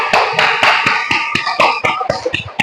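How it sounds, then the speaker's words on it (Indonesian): A classroom of primary school children applauding a group, irregular close hand claps of uneven rhythm, bright and loud at first, then thinning into scattered claps. "give applause untuk grup 1"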